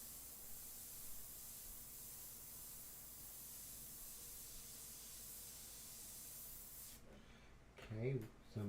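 Freehand airbrush spray hiss, continuous and steady while painting a full-color fashion portrait, cutting out near the end as a voice briefly speaks.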